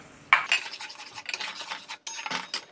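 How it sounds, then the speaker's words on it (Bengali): Spice masala being fried and stirred in a pan for masoor dal dhoka, short bursts of scraping and soft sizzle with spoon clinks, irregular and fairly close, with a brief pause near the middle. "এবার মশলাটাকে আমি ভালো করে কষিয়ে নেব"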